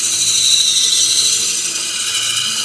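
A carving tool is held against a spinning fiber wheel for sharpening, giving a steady, loud high-pitched whirring grind that holds evenly for the whole stretch with no pauses or talk.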